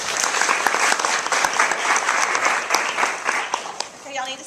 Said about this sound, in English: Everybody get a warm round of applause to Kelly.